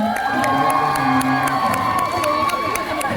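A concert crowd at a music event cheers loudly for T-Day Music Playground, with whoops, shouts and clapping in a constant roar and a band's sustained tones ringing underneath.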